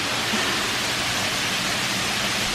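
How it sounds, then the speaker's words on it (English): A waterfall behind an outdoor wedding ceremony arch at Calamigos Ranch in Malibu, California, gives a steady, dense rushing hiss that fills the whole stretch evenly, with no voices. "this is where our ceremony is gonna be, under this arch and with this beautiful waterfall in the back"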